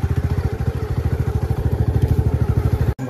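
An ailing motorcycle engine with a stated fault idles roughly nearby, a rapid, uneven thudding pulse that runs loud and steady, then is cut by a brief dropout near the end.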